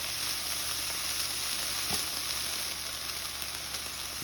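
Beef frying in a pan and stirred now and then, a steady close sizzle with a single brief scrape of stirring partway through.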